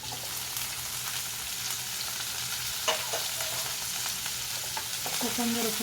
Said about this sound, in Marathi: आता कांदा भाजत आलेला आहे